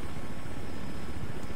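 Steady low rotor-like rumble of a helicopter in a video game, continuous and fairly loud with a broad noisy wash, no voices over it.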